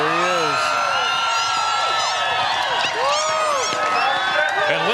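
A large crowd cheers and whoops at the Iditarod finish on Front Street in Nome, Alaska, as the 2019 champion Pete Kaiser arrives. Shrill whistles and rising yells ring out continuously over a steady roar.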